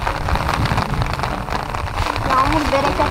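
Heavy rain falls outdoors while people are pike fishing near a tent, a dense, steady patter on surfaces throughout, loud and continuous with faint voices underneath.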